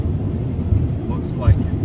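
Strong wind buffets a parked truck, a low steady rumble with heavier thumping gusts inside the cab, while a voice talks faintly over it.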